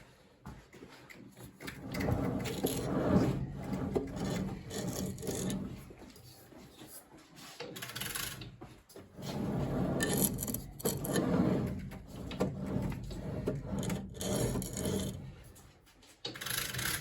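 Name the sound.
grinding stone regrinding a blade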